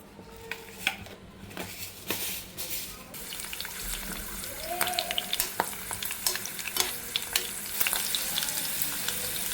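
Fenugreek seeds and a couple of garlic cloves sizzle and fry in a pan, with steady crackling under scattered stirring clinks and scrapes of a utensil against the metal.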